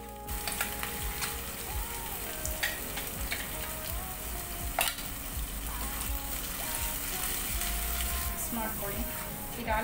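Ground fish curry masala fries in a pan for a Kerala-style fish curry, a steady close sizzle with occasional stirring scrapes and pops and no voices.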